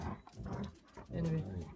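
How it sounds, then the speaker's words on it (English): Dogs growl and bark in the background of a French home garden, a short rough burst competing with a voice that speaks over it. "excuse the dogs having a party behind me."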